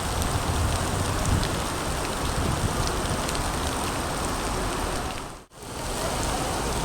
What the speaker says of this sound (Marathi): खूप भयानक पाऊस पडत आहे